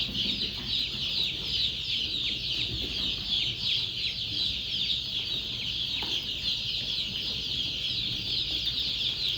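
A dense chorus of many Adler and Andijan black chicks peeping and clucking continuously, high-pitched and steady, with no talking.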